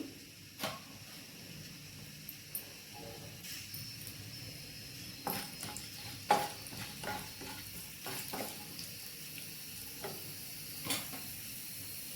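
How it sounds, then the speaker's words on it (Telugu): Mustard seeds and chana dal sizzle in hot oil, a soft steady frying hiss punctuated by scattered sharp pops and crackles, with occasional stirring scrapes, close and fairly quiet. "కొంచెం ఆవాలు చిట్టపట వేయాలి"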